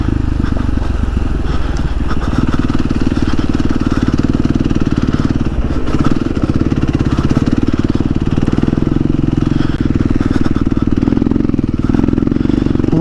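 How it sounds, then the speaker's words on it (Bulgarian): An enduro motorcycle engine roars steadily while riding through the Gabrovo area, and a loose drive chain clatters throughout. The sound is loud, close and continuous, with no speech. "Чувам си веригата как трака."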